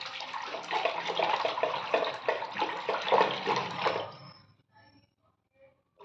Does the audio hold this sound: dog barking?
no